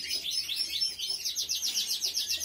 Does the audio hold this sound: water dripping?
no